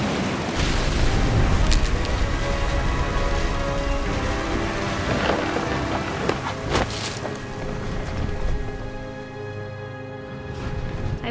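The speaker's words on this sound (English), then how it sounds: "The thunder sounded much too close and full of angry power." Thunder and rain in the video game What Remains of Edith Finch: steady loud rainfall hisses throughout while deep thunder rumbles and a few sharp cracks break through, with no voices.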